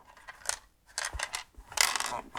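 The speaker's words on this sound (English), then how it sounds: "That sounds like a loose pin." A loose pin rattles inside a vintage computer printer built for MSX computers, making a few short metallic clinks and a brief jangling burst, close and fairly quiet with no talk.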